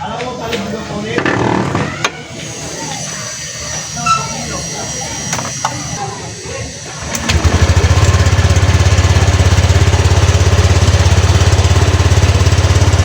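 A Honda Click 125i scooter engine, just fitted with a new fuel filter, starts after some nearby handling noise and then runs at a steady, loud idle close by until the end.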